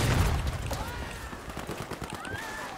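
Bursts of gunfire from an enemy shooting out of a house in the Battlefield 5 video game, rattling in short volleys at moderate distance while someone talks over them.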